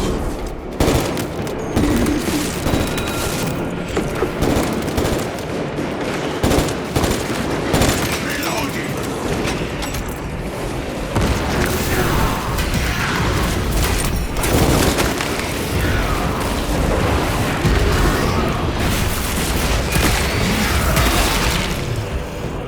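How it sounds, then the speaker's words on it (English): Fortress defensive cannons blast at swarming Tyranids in the Warhammer 40,000: Space Marine 2 video game, a dense, continuous barrage of heavy booms and rapid gunfire rolling on without a break. "Defensive cannons active."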